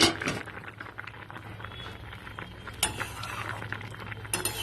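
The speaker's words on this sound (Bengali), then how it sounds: "তিন মিনিট বাদে ঢাকাটা খুলে একটু নেড়ে চেড়ে নেব" Potatoes being stirred in a pan just uncovered after steaming, for a home-style mouri potol dish with pointed gourd: a few scraping, clinking strokes of a spatula against the pan over a low steady background, moderately close.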